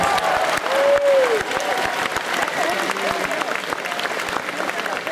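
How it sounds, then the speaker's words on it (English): Audience applause at a concert at PAX East 2011, dense crowd clapping sustained throughout at close range, with a brief whistle-like tone rising over it early on. "Can we please have a round of applause for all the people wearing just mustaches?"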